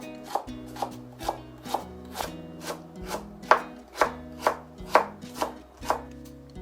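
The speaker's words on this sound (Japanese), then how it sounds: "皮を剥いた大根は細切りにしていきます。" A knife chops steadily on a cutting board, about a dozen crisp, evenly spaced strokes as a peeled daikon radish is cut into thin strips, with no talking.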